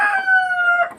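A rooster crows once, close and loud, a short strained call with a clear tonal rise and trailing off, heard alone.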